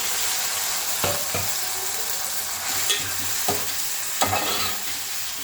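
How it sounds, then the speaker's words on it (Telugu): Tomato pieces frying with browned onions in a pan for a spicy green-chilli egg curry, a steady close hiss of sizzling oil broken by several stirring scrapes. "ఇప్పుడు ఉల్లిపాయలు వేగిపోయినాయి, టమాటా ముక్కలు వేసుకున్నాం."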